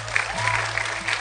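A crowd at a late-night gathering applauds a Catholic priest in a short, dense burst of steady clapping.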